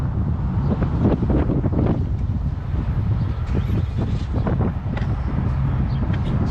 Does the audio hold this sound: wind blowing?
yes